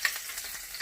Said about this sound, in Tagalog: Oil, so ready to put in the garlic